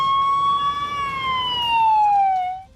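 A fire engine's loud wailing siren sweeps up and then slowly falls in pitch, one long tone with a faint road rumble beneath.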